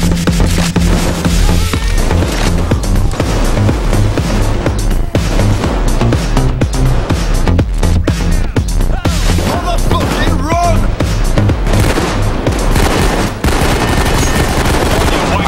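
Rapid gunfire and booming grenade blasts from the heist shooter Payday 2 crowd a loud, dense battle mix, with a voice talking over the chaos.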